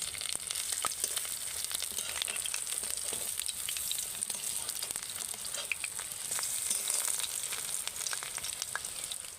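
Ash gourd leaf fritters fry in oil with a constant bubbling sizzle and scattered pops, heard close up and alone with no voices.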